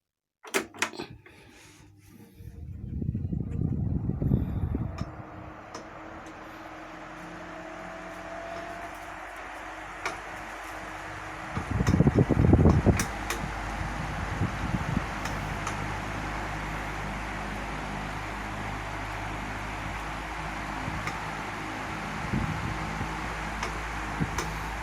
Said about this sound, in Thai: ตอนนี้ผมจะให้ดูว่าเสียงนี้มันเสียงอะไรนะครับ